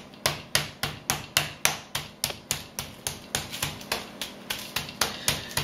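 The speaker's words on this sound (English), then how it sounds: "beating the chicken with a hammer" A hammer pounds a raw chicken breast flat in a home kitchen, about twenty sharp, evenly spaced thuds in a steady rhythm, close and clear with no talking.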